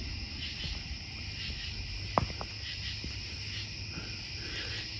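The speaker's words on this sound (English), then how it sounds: "Hear a lot of the crickets and frogs out." Crickets chirp at night near an Indian mound, a faint steady high trill running throughout, with a brief sharp knock midway and soft rustling underneath.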